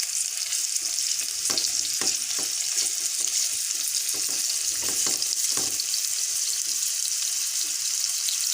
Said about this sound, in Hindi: बस इनको हल्के हल्के हाथों के साथ आपने फ्राई करना है।